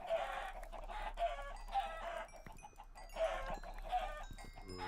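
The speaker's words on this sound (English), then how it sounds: "Get all the chickens." Chickens cluck repeatedly in Minecraft, modded Feed The Beast play, in a steady series of short bursts over a light background hum.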